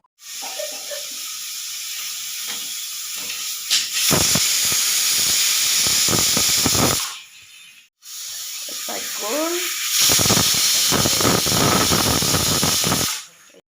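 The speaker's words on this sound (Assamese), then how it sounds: "আৰু ঢাকনিখন মই লগাই দিলোঁ 2টা চিটি আহিলে মই বন্ধ কৰি দিম" A pressure cooker cooking rice releases two long, loud bursts of hissing steam, each lasting about three seconds and separated by a short pause, with a faint voice heard briefly at the start.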